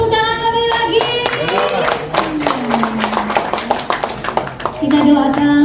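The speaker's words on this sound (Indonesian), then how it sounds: "Boleh tepuk tangan lebih lagi." A crowd at a halal bihalal thanksgiving gathering claps hands in a lively, uneven patter while people keep talking over it, the clapping running throughout at close range.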